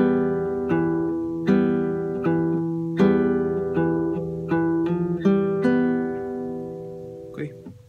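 An acoustic guitar plays a phrase of a song, about a dozen plucked notes and chords ringing out at an unhurried pace, close and clear, each note decaying before the next.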